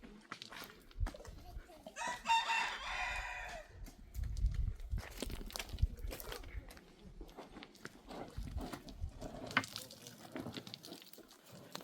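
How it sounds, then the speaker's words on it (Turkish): Chickens cluck and a rooster crows once, faint and a little distant, at a nomad camp in the Zagros mountains, with footsteps shuffling nearby and quiet voices at times. "Bakın tavuk yiyin."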